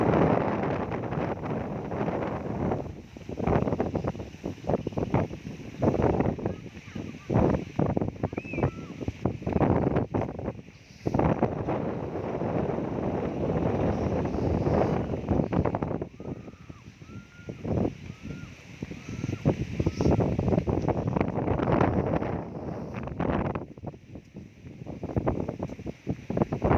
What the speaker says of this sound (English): To say I'm sorry for the wind sound.